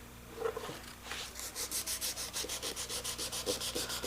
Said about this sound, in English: when we do our hand sanding here, we'll want to bring that up to that point like so